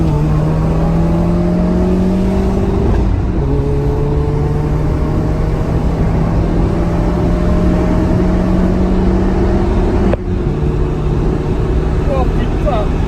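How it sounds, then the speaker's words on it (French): A Peugeot 206 pulls away under steady acceleration, its engine note climbing through the gears with one brief shift dip, heard from inside the car at a constant, loud level. "Quoi mieux qu'une petite accélération"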